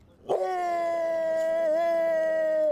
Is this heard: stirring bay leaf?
no